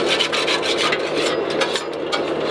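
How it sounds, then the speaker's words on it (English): A trowel being scraped clean, a steady, close abrasive rasping that continues without pause and with no talk over it. "I'll clean your trowel, Hunter."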